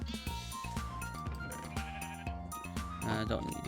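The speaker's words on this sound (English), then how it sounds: "A white sheep!" A white sheep in Minecraft gives short bleats, several brief cries over steady game music.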